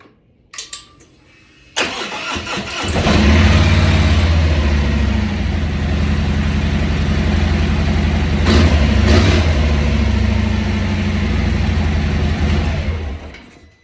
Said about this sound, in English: I'm gonna start it up, do a sound test, so you can hear the difference between the stock pipe